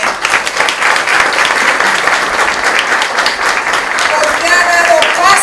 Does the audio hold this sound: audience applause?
yes